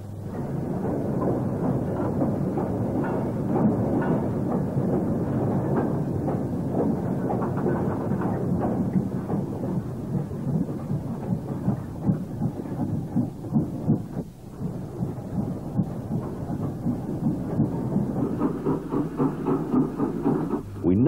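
A Peppercorn A1 steam locomotive runs at High Dyke in the 1950s, a dense, steady rumble and chuff of the passing engine and train, loud and continuous with low roaring noise throughout.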